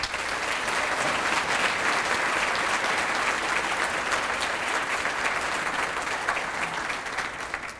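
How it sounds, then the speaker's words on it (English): An audience at a Teacher of the Year celebration dinner claps loud and sustained for the honored teachers, a thick, even wash of applause with no break. "Let's give them a round of applause."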